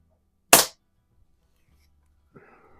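A Daisy 822 .22 caliber multi-pump air rifle fires a single sharp, close shot in a garage while plinking, followed by a faint thump and rustle.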